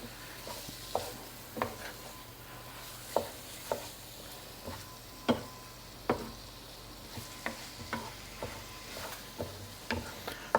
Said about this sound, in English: We're going to kind of brown our turkey. So I'm putting up the flame just a bit.